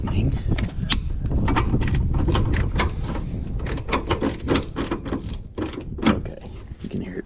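A socket wrench ratchets as it tightens a bolt on a Jeep XJ rear hatch, a dense run of rapid clicks that is loud and close for several seconds.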